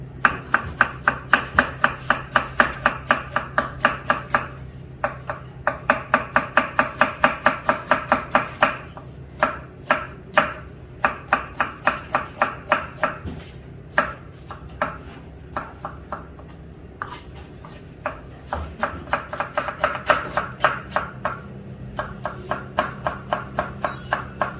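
Rapid, rhythmic knife chopping of onion thinly sliced on a cutting board for sambusa, bursts of quick strokes separated by brief pauses, close and crisp, with no talking.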